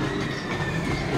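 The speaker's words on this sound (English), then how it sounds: "That's a nice train." An amusement park train at Hansa-Park rolls past, a dense, loud rumble with rattling wheels and clickety-clack on the track, filling the moment with no talk over it.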